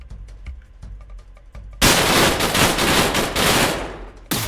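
Quiet clicking footsteps give way to a sudden loud burst of sustained automatic gunfire lasting a few seconds, with a brief pause before another shot, in the video game Rio Raised In Oblivion.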